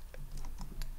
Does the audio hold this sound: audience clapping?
no